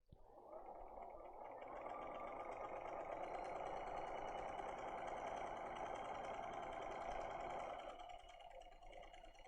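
A sewing machine stitches light fabric along a glued raw edge while piecing a Moroccan Star quilt block. Its motor gives a steady, close whirring hum for about seven seconds and then stops.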